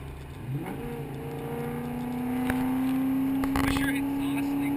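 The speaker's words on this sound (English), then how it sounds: "Wish your exhaust leak was fixed." A Fox body Mustang with a massive exhaust leak races another car, its engine rising in pitch as it accelerates hard, loud and raspy from nearby, with voices talking over it.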